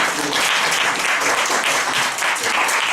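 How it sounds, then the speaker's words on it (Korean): Steady, dense applause from a lecture audience honoring a software association chairman, filling the room evenly and loudly without a break. "다시 한번 박수 한번 드리겠습니다"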